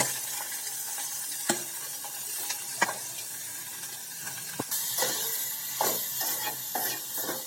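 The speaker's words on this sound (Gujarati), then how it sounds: "ફેન્કીનો વઘાર આપણે બટરથી જ કરશું" Vegetables for a frankie sizzle in hot butter in a pan, a continuous frying hiss broken by sharp scrapes and clicks of a spoon stirring, the sizzle growing brighter partway through.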